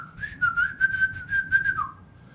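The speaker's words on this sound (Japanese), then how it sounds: "急に口笛吹いたらおかしいんだよ" A person suddenly whistling during a radio-style talk show, a single steady melodic whistled line lasting about two seconds, close and clear with faint room noise beneath and no talk over it.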